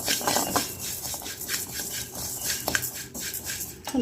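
Flattened rice (aval) dry-roasting in a pan for aval laddu, heard as repeated scraping and clinking of a utensil against the pan, with a scratchy rattle of grains throughout.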